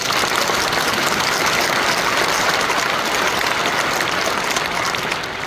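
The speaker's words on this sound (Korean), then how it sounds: "감리교 장로님 부부 여러분 항상 박수로 격려해 주셔서 감사합니다" An audience of Methodist church elders and their spouses applauds in a church lecture hall, a dense, loud, steady wall of clapping that tapers slightly at the very end.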